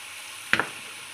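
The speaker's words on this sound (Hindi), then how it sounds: "कद्दू डाल के हमने इसको फ्राई करना है।" Pumpkin fries in spices in a pan with a soft, even sizzle, broken by one brief sharp clatter of a stirring utensil near the middle.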